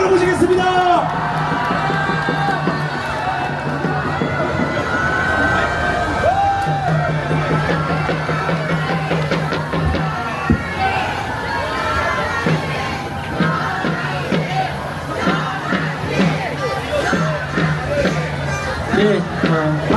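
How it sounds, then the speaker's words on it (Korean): A large outdoor political rally crowd in Yeouido, Seoul, cheers and shouts continuously, with whoops and loud babble filling the whole stretch, while amplified voices carry over the crowd noise. "전환길 강사님을 박수와 함성으로 모시겠습니다."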